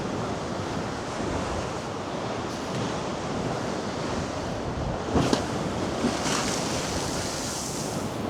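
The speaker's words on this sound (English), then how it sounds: "Just look at the waves." Rough, stormy sea waves crash at Blackpool in a steady, loud surf roar with wind noise, and a couple of sharper splashes stand out near the end.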